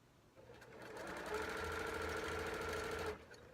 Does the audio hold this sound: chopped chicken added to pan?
no